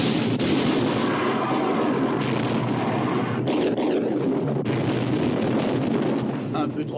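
Battleship guns keep up a continuous, thunderous bombardment in a 1960 naval war film about the Bismarck, loud broadband blasts and rumble blending into a steady roar with a few sharper bursts and brief voices.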